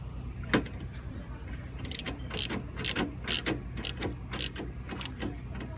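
A ratchet wrench with a 10 mm socket tightening bolts during a radiator replacement on a 2005–2008 Chrysler Pacifica, giving crisp clicking bursts in short irregular strokes, close by with light metallic ticks between them.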